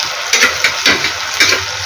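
Hot oil spatters and sizzles steadily in a pan while chole fries, a close, loud, hissing crackle with quick repeated pops and no voices.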